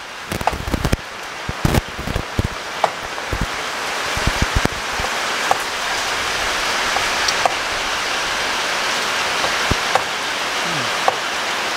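Rain falling outdoors, a steady broadband hiss that fills the whole stretch, with scattered sharp taps and knocks standing out near the start and occasional clicks afterward.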